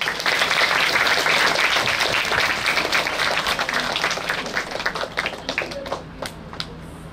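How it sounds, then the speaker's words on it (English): A room full of people at a book launch breaks into applause, loud, dense clapping at first that thins out into scattered, sharper individual claps as it fades toward the end. "So one round of applause to you all."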